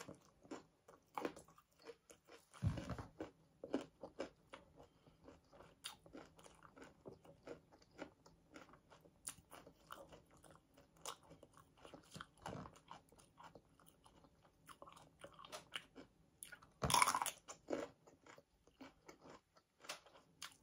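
Crisp bites and crunchy chewing of a cucumber up close, with a few louder crunches standing out against a quiet background.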